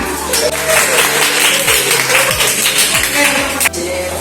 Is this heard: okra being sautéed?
no